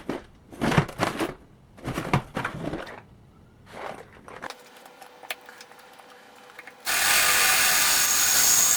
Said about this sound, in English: So we're going to drill out a fender washer